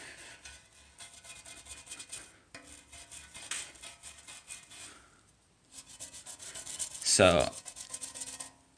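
A wire brush scrubs paint-stripper-softened paint on a metal mini bike frame, giving repeated close raspy rubbing strokes in bursts, with a louder scrape near the end and a brief spoken word.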